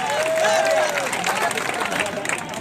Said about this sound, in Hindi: एक बार जोरदार ताली से आप उनका भी स्वागत करें